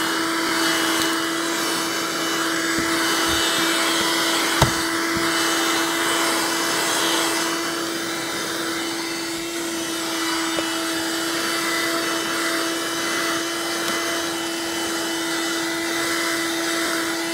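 A DawnFavor auto vacuum with stainless steel HEPA filter, usable wet or dry, runs steadily and close by with a constant motor whine and suction roar, a brief thump near the middle, no talking.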